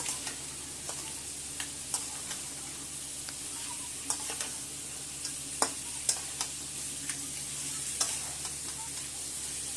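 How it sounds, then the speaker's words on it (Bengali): Pre-fried Sundarbans crabs sautéed with spices in a pan give a continuous low sizzle, punctuated by scattered sharp clicks and scrapes of stirring at irregular intervals. "সমস্ত মশলার সাথে কাঁকড়াগুলোকেও আমি একটু কষিয়ে নেব।"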